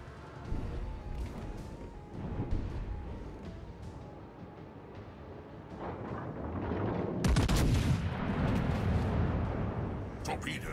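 Naval gun salvos and explosions in World of Warships: Legends, booming blasts rising to a heavy crash midway, mixed with a voice speaking over the battle din.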